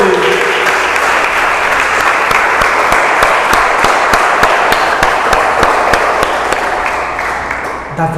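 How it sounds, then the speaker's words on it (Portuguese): Sustained applause from a church congregation fills the space, dense and loud, with steady clapping that fades slightly toward the end and no talk over it. "aplauda o Senhor, igreja"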